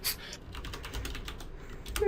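Rapid clicking of keys on a computer keyboard, a quick run of close, light taps with a sharper strike at the start and end.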